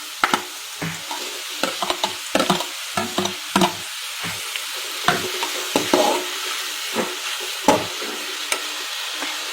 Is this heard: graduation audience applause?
no